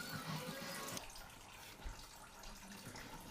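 Fluid trickles and drips steadily off the transmission housing of a Camaro with an LS1 engine and T56 gearbox during removal, a continuous wet splatter close by with one brief louder knock.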